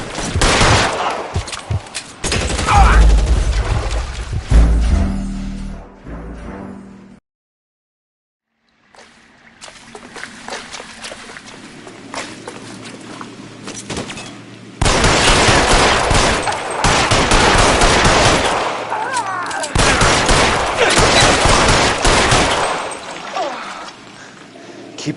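Bursts of machine-gun and rifle fire in L.A. Noire, loud and close, come in several dense volleys separated by a near-silent pause and a quieter stretch.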